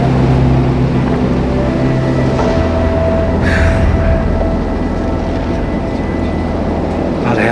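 A deep, continuous roar of the 2009 Black Saturday bushfire in Victoria fills the air, steady and heavy like distant jet engines or trains bearing down, with no voices.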